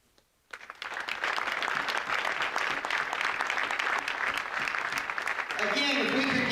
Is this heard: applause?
yes